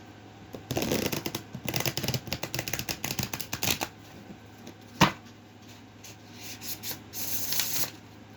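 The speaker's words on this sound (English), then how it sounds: "We'll give this a little shuffle here and we'll see what we can come up with." A deck of tarot cards is shuffled by hand, giving bursts of rapid papery riffling and flicking, close and fairly quiet, with a single sharp tap partway through and no talking.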